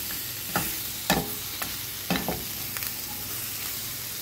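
Turkey slices sizzle in a pan for a BLT sub, a steady frying hiss broken by several sharp stirring scrapes and clicks from a utensil, close and alone.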